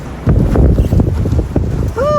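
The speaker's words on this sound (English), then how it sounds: "Oh, it's windy today." Strong wind buffets the microphone on a trail at Clifton Falls State Nature Preserve, a loud, rumbling roar with gusty swells and brief dips over about two seconds.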